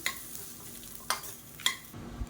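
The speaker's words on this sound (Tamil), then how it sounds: "அந்த சூட்டிலே வதக்கி விட்டுக்கோங்க." Spices stir in a hot pan, with a faint low sizzle and a few sharp clicks of a spoon scraping the metal, quiet and close with no talking.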